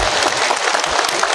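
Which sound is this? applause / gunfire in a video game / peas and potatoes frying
applause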